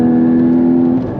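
A Porsche 981 Cayman GT4 sports car's engine pulls hard under full throttle, a loud, close, steady drone heard from inside the car that holds for about a second and then eases slightly.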